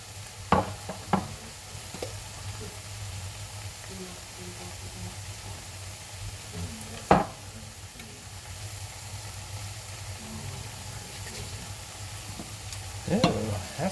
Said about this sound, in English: the garlic, you only want to cook for about 30 seconds to a minute, just till you start smelling it